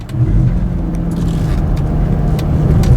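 A 2016 Mazda CX-9 AWD in sport mode, off-road and straining for traction: a loud, close engine holding a steady rev around 2200 RPM, rumbling continuously with slight wavering.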